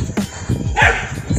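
Several short, sharp dog barks and yips close by on a road, quick and uneven over a brief moment, with a bit of background noise.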